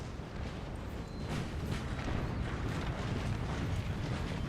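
Prussian artillery fire in the Napoleon's Eagles battle game at Auerstedt: a continuous low rumbling barrage of distant booms blending into one dense, moderately loud roar.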